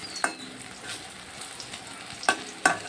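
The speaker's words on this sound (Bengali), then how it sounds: "এইভাবে আমি সবগুলা ভেজে নেব।" Bhadali leaf fritters (bora) fry in hot oil with a steady, close sizzle. A few sharp bursts of stirring or clattering break in near the start and end.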